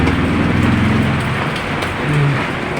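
Light rain falls outside as a steady, even hiss of drops that carries loudly throughout, with no voices over it.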